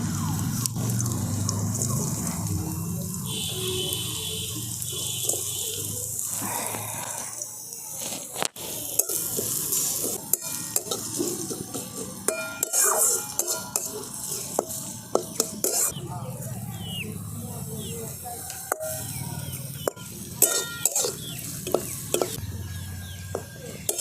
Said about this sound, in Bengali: এই দেখুন গাজরটাকেও আমি ভালো করে ভেজে নিয়েছি